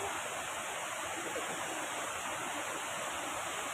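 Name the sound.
small waterfall near a glamping campground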